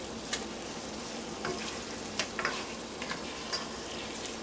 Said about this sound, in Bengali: এবার চিকেনটাকেও কষিয়ে নিতে হবে